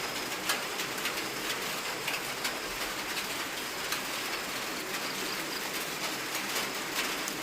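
Rain begins to fall outdoors, a soft, steady hiss of drops with faint scattered patter, fairly quiet and even throughout, with no voices.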